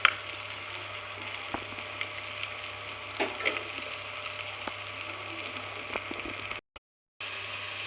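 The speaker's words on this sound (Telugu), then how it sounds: "ఇప్పుడు ఇదే బాండీలోకి మనం ఆనియన్స్ కూడా వేసేసుకుందాం" Onions tossed into hot oil in a kadai, the same one just used for eggs, sizzle and fry in a steady close crackle with occasional stirring scrapes, cutting out briefly near the end.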